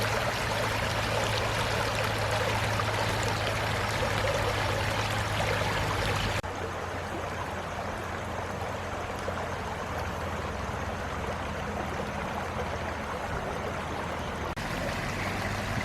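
Creek water rushing and splashing over rocks along a hiking trail, a steady close broadband flow that dips slightly in level partway through, with no talking.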